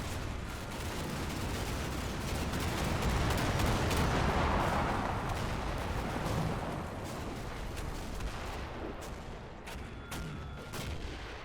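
Heavy, continuous gunfire and artillery rumble pound a building in a military video game battle against a Marine Expeditionary Unit, with dense overlapping shots and blasts that swell and then ease slightly.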